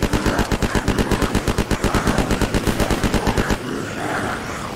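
Rapid automatic gunfire in the zombie survival video game Unturned, a loud, evenly spaced burst of about thirty shots lasting over three seconds, then stopping abruptly into faint game ambience.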